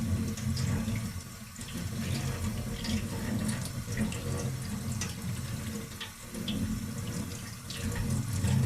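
Water from a tap runs steadily over a sea bass being rinsed in a kitchen sink, a continuous close splashing stream with small irregular spatters.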